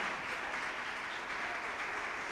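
Steady applause from a church congregation, dense and continuous clapping throughout at moderate level with no voices.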